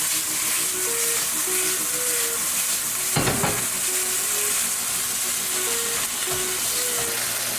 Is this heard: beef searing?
yes